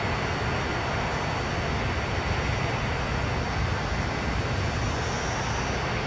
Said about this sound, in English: It's a very loud jet,